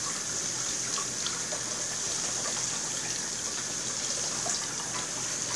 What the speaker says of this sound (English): then you're just going to run it under the water again